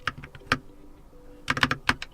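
Quick clicky keystrokes on a Keychron K2 QMK mechanical keyboard come in short bursts separated by a pause, crisp and fairly close in a quiet room.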